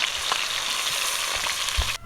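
Fish sizzles and crackles steadily in hot oil, a close, continuous frying hiss that cuts off abruptly near the end.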